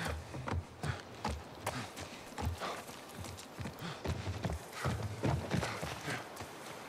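Steady clip-clop of horse hooves at a walking pace in the video game The Last of Us Part I on PS5, repeated rhythmic knocks with a constant background hum, fairly close and moderately loud.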